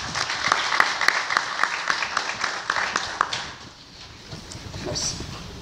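An audience at an investiture and swearing-in ceremony applauds in a dense, close burst of clapping that thins and fades toward the end, with some voices underneath.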